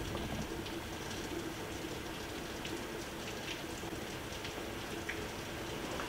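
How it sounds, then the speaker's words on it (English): Heavy rain falls in a steady, dense patter with scattered louder drops. It sounds fairly quiet and distant, as if heard from indoors, with no voices. "It is really, really raining hard."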